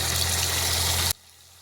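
Onion-based roasted masala paste frying in hot oil for a fish curry gravy, cooked outdoors, gives a loud, steady broadband sizzle with a low hum beneath it that cuts off abruptly, leaving faint quiet.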